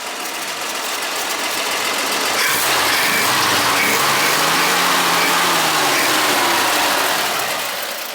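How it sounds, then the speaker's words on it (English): The 235 inline six-cylinder engine of a barn-find 1955 Chevrolet 3100 farm pickup idles smoothly and evenly, a steady low rumble with a constant close mechanical hum throughout. "Not smoking, nice and smooth, nice idle."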